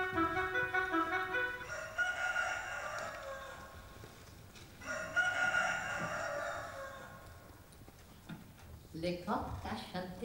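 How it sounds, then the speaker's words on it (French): A rooster crows during a stage theatre performance, with two long drawn-out calls heard clearly over a soft room background and a brief burst of other sound at the end. "Le coq a chanté."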